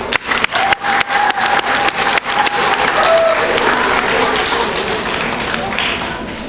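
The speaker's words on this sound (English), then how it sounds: "Can we get one more round of applause" Graduation audience applause at an 8th grade ceremony: loud, sustained clapping from a large crowd with sharp individual claps up front and a few whoops, slowly tapering off.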